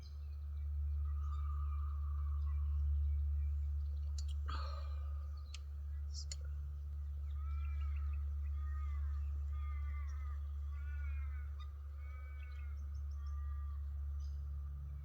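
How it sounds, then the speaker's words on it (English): Birds call in scattered chirps and short warbling phrases at a campsite at sunrise, moderately distant over a steady low hum, with a couple of sharp knocks partway through. "Lots of birds out."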